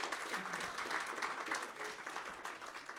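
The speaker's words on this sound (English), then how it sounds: "Another round of applause, thank you." An audience claps steadily through a round of applause at a university research presentation competition, a dense, even patter of many hands heard from a moderate distance.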